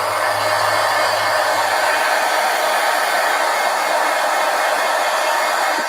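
A hair dryer blowing over wet paint on a mixed media art journal page, a loud, steady, close rushing roar that holds unchanged throughout.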